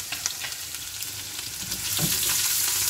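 Cumin, ginger and garlic fry in hot oil in a pan for keema, sending up a loud, dense sizzle that swells near the end, with a few stirring scrapes mixed in.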